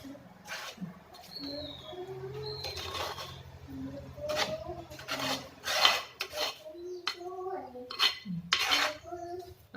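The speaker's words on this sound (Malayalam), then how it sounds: "ഇനി നന്നായിട്ടൊന്ന് യോജിപ്പിച്ചു കൊടുക്കുക." Mashed greater yam (kachil) being mixed in a pan, with a steady run of scraping, rubbing and soft spoon-on-metal clinks close up, in repeated strokes for about ten seconds.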